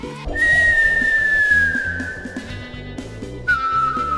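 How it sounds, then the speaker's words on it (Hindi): A long, steady high whistle holds for about three seconds, then sounds again briefly after a pause, over a low rhythmic background. "तभी अचानक दूर से एक पुरानी सी सीटी बजने की आवाज आई।"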